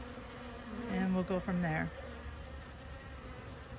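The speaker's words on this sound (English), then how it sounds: "And there's some more bees that just like toppled over." Bees buzz in a bee yard beside honey-laden hives, a steady insect drone throughout with a brief stretch of nearby talk in the middle.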